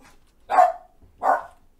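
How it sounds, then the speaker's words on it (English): A pet dog barks twice indoors, two loud, close barks about three-quarters of a second apart, with quiet room tone between them. "So I do apologize if he continues to bark throughout the video."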